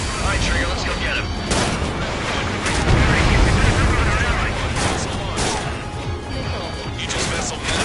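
The Aegis vessel Metis blowing up in the Ace Combat 7 video game, a dense continuous roar of loud blasts and crashing impacts at close range, with voices talking over it.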